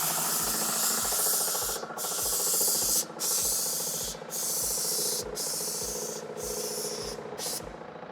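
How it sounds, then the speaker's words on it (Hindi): A Wagner airless spray gun sprays paint onto a wall in a steady loud hiss, interrupted by brief regular pauses as the trigger is released, close up with a pump thumping rhythmically underneath. "मैं आपको यहाँ पर स्प्रे करके दिखा देता हूँ।"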